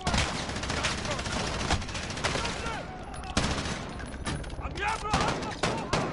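Rapid, sustained gunfire in a video game, dense crackling volleys of shots running throughout at close range, with some sharper individual reports standing out.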